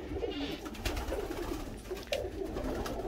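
Pigeons coo in a pigeon loft, several birds making soft, repeated throaty calls close by, overlapping with light rustling and scuffing in the background.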